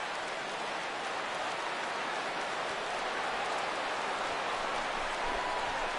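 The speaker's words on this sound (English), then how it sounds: "with the light rain falling the way it is here at game time" Light rain falls steadily over a ballpark at Wrigley in an MLB 2017 video game, a soft continuous hiss at even volume throughout, with a faint tap near the end.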